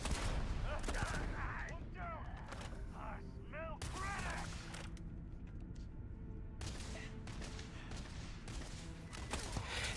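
Bursts of rapid gunfire in the space RPG Starfield crackle in loud, repeated volleys, then pause and return, with a person talking over parts of the shooting.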